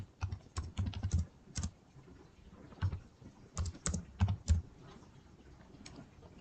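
Typing on a computer keyboard while entering details into a passport application form, with clustered bursts of keystrokes separated by short pauses, close and fairly loud, with no one speaking.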